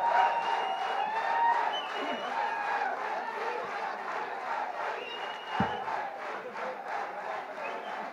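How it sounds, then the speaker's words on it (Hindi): Large crowd at a film music launch for the movie MSG 2, a dense roar of voices and cheering held steadily for the whole stretch, loud and close, with shouts rising above the mass. "जोरदार तालियां हो जाए"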